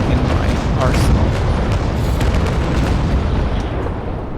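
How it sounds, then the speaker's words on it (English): A sailing warship in the naval combat game Naval Action fires off its remaining cannons, a dense run of loud, overlapping booms and rumbling blasts going on throughout, with a voice talking underneath. "So I'm aiming and just firing off whatever I have remaining in my arsenal"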